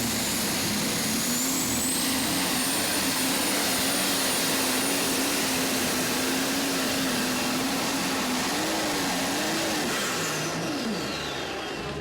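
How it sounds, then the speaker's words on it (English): A Lemke 540 diesel tractor in a Super Stock Diesel pull at the North Iowa Nationals in Rockwell, Iowa, roaring loud and close with a sustained, wavering engine drone and a high turbo whine that dips near the end. "this is a Lemke 540 diesel"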